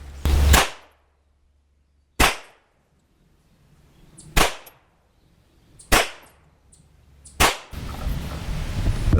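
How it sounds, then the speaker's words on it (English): Five sharp, loud 9mm pistol shots, 165-grain subsonic FMJ rounds from M&P and CZ handguns at an outdoor range, spaced about 1.5–2 seconds apart with short decays, followed by a steady wash of wind or background noise. "We're going to do the same thing, 5 rounds with the M&P and then 5 rounds with the CZ."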